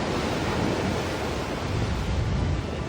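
Strong sea waves churn and surge around a tilting, sinking tugboat off Zambales, a continuous broadband roar of surf with gusty wind noise and no voices.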